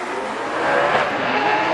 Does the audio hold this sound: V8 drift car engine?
yes